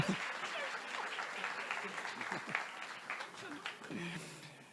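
Moderate, continuous applause from a journalism congress audience welcoming a speaker onto the stage, with murmured voices faintly mixed in beneath the clapping.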